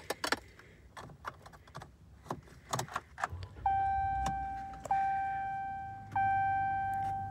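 A 2018 Ram 1500 ST pickup starts up inside the cab: clicks and key or switch sounds, then a steady hum with chime-like tones once it is switched on, fairly close and clear with no talking.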